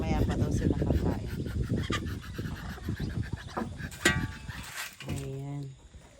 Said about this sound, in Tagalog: At ito ang aming mga pato.